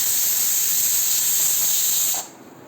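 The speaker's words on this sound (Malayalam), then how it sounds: "കുക്കർ അടച്ച് 2 വിസിൽ വരുമ്പോൾ നിർത്തിയിടുക." A pressure cooker with mutton stew cooking inside vents steam in a loud, sharp, sustained hiss that cuts off abruptly near the end, leaving a quieter kitchen background.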